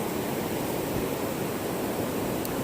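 Tarra Falls, a waterfall feeding Tarra River in a forested valley, roars as a steady, dense rush of falling water that stays close and constant throughout, with no voices.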